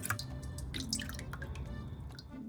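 Water drips and splashes as fresh blue mussels are rinsed clean, with irregular close droplets and trickles, no voices.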